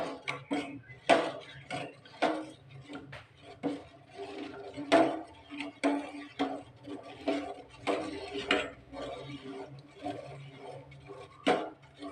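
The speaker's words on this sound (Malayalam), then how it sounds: "പാട ചൂടാതെ ഇങ്ങനെ ഇളക്കിക്കൊണ്ടിരിക്കണം" A utensil scrapes and clinks against a pot of boiling milk for payasam in a steady, repeated stirring rhythm, close by, with no voices.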